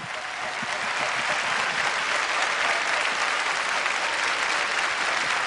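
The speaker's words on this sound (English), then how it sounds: "And a great reaction from the crowd." A large crowd applauds after a rumba at the 1999 IDSF European Latin Championships in Helsinki, a thick continuous wash of clapping that swells early and holds steady from a distance.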